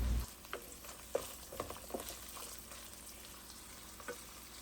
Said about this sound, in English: You're going to cook this until everything changes from pink to brown.